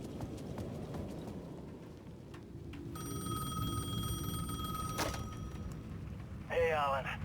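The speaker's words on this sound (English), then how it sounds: "The payphone at the edge of the plaza was ringing again." A payphone bell in the video game Alan Wake 2 rings in steady bursts over a busy bed of background noise and footsteps, with a voice briefly chiming in at the end.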